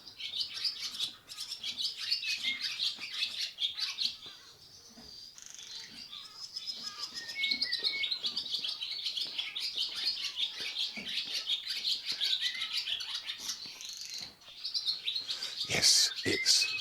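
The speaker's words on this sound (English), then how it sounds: "see if we can hear some more of that wonderful swallow" A swallow sings a long, busy run of twittering chirps and warbles, fairly close, with brief pauses and a faint background of other birds.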